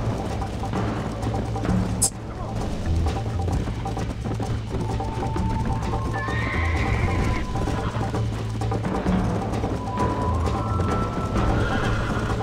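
In Red Dead Redemption, a horse gallops with rapid, rhythmic clip-clop hoofbeats and lets out loud whinnies and neighs. The sound is close and continuous, with game effects layered underneath.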